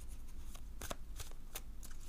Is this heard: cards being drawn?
yes